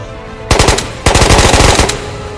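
Rapid bursts of automatic gunfire from the video game Ghosts of Tabor, two loud close strings of shots separated by a brief pause, with no talking.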